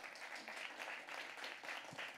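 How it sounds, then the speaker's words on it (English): A church congregation applauds for a pastor at a Friday evening service, a steady roomful of clapping that sounds somewhat distant and soft and goes on without a break. "Let's give him a round of applause."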